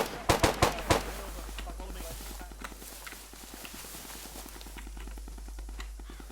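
A quick cluster of sharp gunshots in a video game at the very start, followed by a steady rhythmic clatter of softer clicks or steps over a low hum, with people talking.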